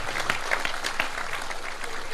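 Audience applause at an Indonesian religious advice gathering, a dense steady patter of many hands clapping for the full stretch, fairly loud and even, with a few sharper claps standing out near the start.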